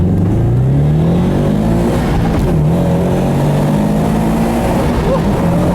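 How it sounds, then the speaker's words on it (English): A supercharged Subaru BRZ sports car with a Jackson Racing supercharger accelerates hard along a back road, its engine note loud and close, rising steadily in pitch with a brief shift dip partway through. "let's turn down on this back road here and see how it does with this Supercharger"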